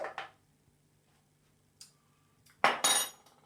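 A big spoon knocking against a bowl of raw celery and fennel soup, a few sharp isolated clinks spread across a quiet stretch, with a louder clustered pair of metallic taps near the end; no speech.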